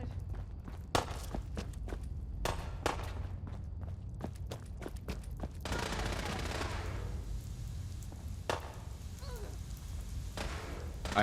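A gunfight in Fallout 4 on PS4 mixes bursts of rapid gunfire with footsteps and thuds, sharp repeated cracks at moderate loudness over a continuous game background.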